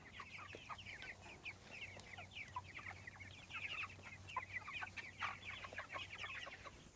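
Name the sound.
Cornish Cross meat chickens clucking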